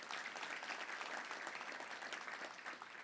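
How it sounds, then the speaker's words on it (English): Audience applause at a Little Rock Touchdown Club gathering, a steady wash of clapping from a crowd that stays fairly even and moderately distant throughout. "Let's give him a round of applause"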